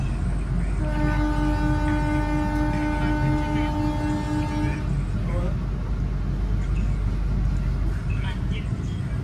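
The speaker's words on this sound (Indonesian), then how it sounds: "Ijen Express berangkat kembali dari stasiun Bangil melanjutkan perjalanan menuju ke Ketapang, Banyuwangi." Ijen Express economy-class train departing Bangil station toward Ketapang, Banyuwangi: a long sustained multi-tone horn sounds for about four seconds over continuous heavy rail rumble, which keeps rolling after the horn stops.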